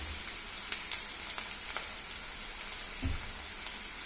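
Onion and curry leaves frying in oil for a Telugu ivy gourd and fresh coconut curry, giving a steady, close crackling sizzle with scattered small pops and one brief low thump near the end, with no voices.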